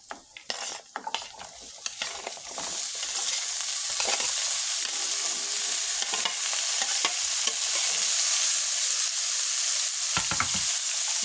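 Vegetables stir-fried in a pan hiss and sizzle loudly and steadily after a few opening scrapes and clatters of a spatula, with intermittent stirring knocks over the continuous frying noise.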